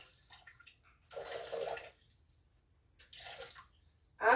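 Water pours into a pan to start a syrup for steamed pears, two bursts of splashing with a short pause between, close and moderately loud with no talk.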